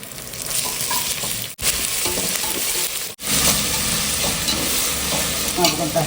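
Ginger garlic paste sautéing in hot oil gives a loud, steady sizzle with stirring scrapes, broken by two brief pauses near the start before the frying resumes.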